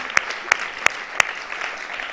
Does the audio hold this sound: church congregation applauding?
yes